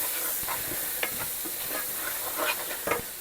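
Flour being stirred into an onion sauce in a pan: a steady sizzle under repeated scraping strokes of a spoon against the pan, close and moderate in level, with no talking.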